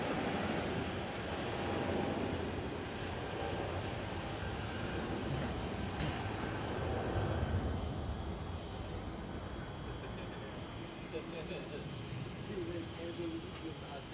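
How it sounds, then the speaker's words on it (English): A Singapore Airlines A350 airliner at Amsterdam Schiphol airport, a steady, distant broadband roar of jet engines holding constant for the whole stretch with no clear talk. "There is the Singapore Airlines A350."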